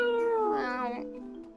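A cat meows in the fantasy game Crystal Chronicles: a single drawn-out, close, clear meow that bends upward and then fades, alone with no talk.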